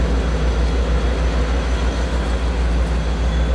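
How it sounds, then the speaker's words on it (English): A Norfolk Southern freight train passes close by in Barnesville, Georgia, with a loud, steady roar of rolling cars and deep low rumble that does not let up. "I'm just shooting video of trains."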